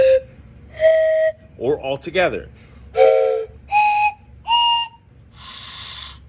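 Toy train whistles, a 3-note and a 4-note model made to imitate a train, blown in several short separate toots with chord-like tones, each distinct and fairly loud, alongside brief speech.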